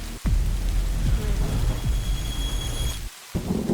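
Heavy rain and thunder in the village of Tumbbad, where a curse brings constant rain: a dense, steady downpour with deep rumbling thunder throughout, briefly dropping out near the end before resuming.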